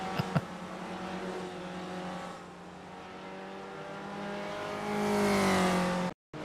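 Race cars in iRacing at Charlotte Motor Speedway roar steadily with layered engine drones and rising pitch, swelling louder near the end before cutting out abruptly, with a commentator talking over it.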